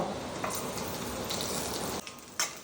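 Biryani spices fry in ghee in a pan, a continuous low sizzle with a few sharper bursts and a brief dip before the hissing resumes.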